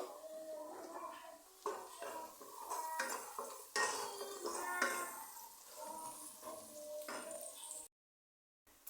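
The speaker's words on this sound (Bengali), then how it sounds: "পেঁয়াজটা ভাজবো।" Onion frying in a pan for a prawn curry, a steady sizzle under repeated clinks and scrapes of a spoon stirring against the metal, close and fairly quiet, with no talking.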